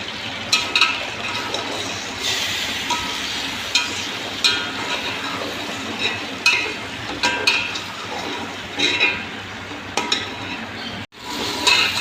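Chicken fries in a pot with garlic, ginger and green chilli. A continuous sizzle runs under frequent scraping stir strokes and light utensil clinks, close up, with a brief pause near the end and no talk.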